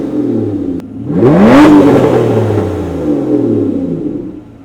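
Aston Martin Vanquish engine in sport mode with exhaust valves open: a single sharp rev swells to a loud howl, then falls back to a deep rumbling idle that fades near the end.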